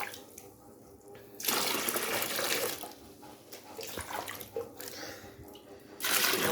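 Water pours steadily into a large 50-litre batch of multipurpose liquid soap, a loud rushing splash that starts and stops in stretches, with lighter trickling between the pours.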